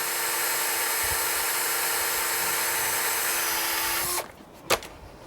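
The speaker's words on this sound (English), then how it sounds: "I'm just angling out a little bit with my drill." A power drill angling into a horse's hoof during shoeing whines steadily and loudly for about four seconds, then winds down and stops, followed by a single sharp click.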